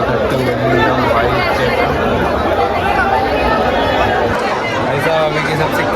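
Dense crowd chatter and babble at a Holika Dahan bonfire gathering in Shyam Bihari Gali, Pratapgarh, a steady loud hubbub of many voices close around with no pause throughout.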